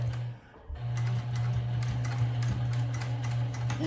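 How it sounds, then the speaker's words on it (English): A sewing machine stitches a fabric strap onto a hobo bag, its steady motor hum and rapid needle ticking running continuously after a brief start, close and without talk. "I'm here by the sewing machine, and I'm going to start to sew."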